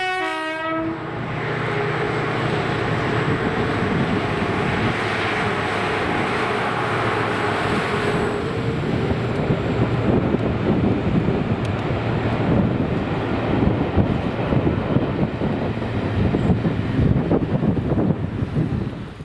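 Passenger train 5Z73 on the Fife Circle pulls away from Aberdour station, opening with a loud horn blast before the steady, building roar of wheels and carriages, with some wind buffeting the microphone throughout.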